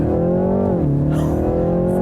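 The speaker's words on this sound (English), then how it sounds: "So let's try the launch control one more time on this car." A 2019 BMW 330i xDrive engine revs hard and loud during a launch-control start, pitch climbing steadily before dropping at a harsh first-to-second gear shift, then climbing again as it keeps accelerating.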